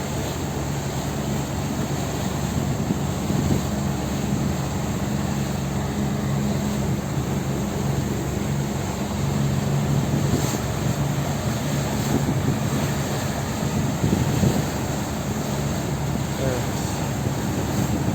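A supply boat carrying materials motors past anchored boats on open water, a steady low engine drone mixed with wind buffeting the microphone and lapping waves, continuous and moderately loud throughout.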